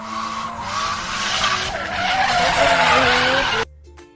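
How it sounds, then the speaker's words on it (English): A car brakes hard and its tires skid loudly in a sustained screech that swells for a few seconds and then stops abruptly, with no talk. "Handler hit the brakes. The car jerked to a stop."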